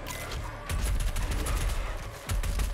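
Rapid bursts of heavy gunfire from Doom Eternal fill the stretch, dense and loud with short pauses between volleys and no talk over it.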